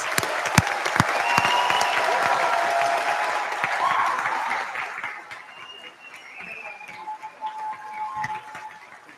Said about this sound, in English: Please join me in an enthusiastic round of applause for these scholars.